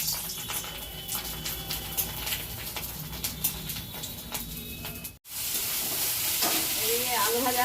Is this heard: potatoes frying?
yes